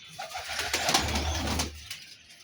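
Aseel pigeons cooing in a rooftop loft, a soft, throaty low coo rolling for about a second amid faint background hiss and distant bird calls.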